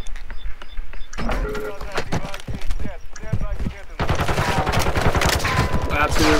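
Rapid gunshots crack out in bursts during a 3v3 Search and Destroy shooter match, loud and close, thickening into dense sustained fire near the end, with players' voices mixed in.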